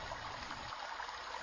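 A large woodland stream runs steadily over stones and small leaf-and-branch dams, a close, even rushing wash with no voices.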